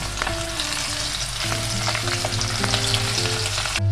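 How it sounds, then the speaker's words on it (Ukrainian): Pork sizzles steadily in a hot pot over high heat, a constant crackling fry with occasional clinks of stirring, loud and close. "Вогонь не зменшую, щоб м'ясо піджарилося, а не тушилося."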